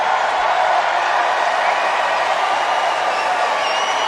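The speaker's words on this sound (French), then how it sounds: "Ça s'est mis à applaudir tout d'un coup." Crowd at a men's final tennis match in Toronto breaking into sustained applause, a steady dense wash of clapping filling the whole stretch without pause.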